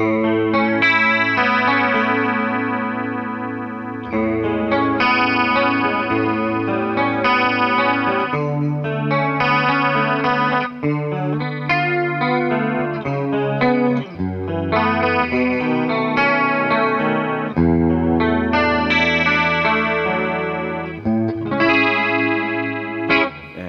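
An Ibanez AZ2204NW electric guitar on its bridge pickup, with a shimmering chorus effect, plays strummed chords and arpeggiated notes, continuous and fairly loud, with no talking.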